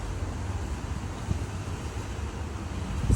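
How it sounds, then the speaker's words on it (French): Strong wind on a sandy outdoor spot buffets the microphone in a constant low roar with gusty rumbling swells, steady and loud throughout. "Regardez le vent qu'il y a."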